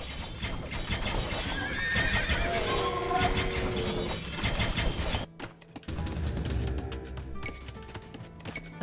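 Horses in the Age of Empires 2 video game give loud repeated whinnies and neighs over clip-clopping hooves and game sounds, followed by a quieter stretch of game effects.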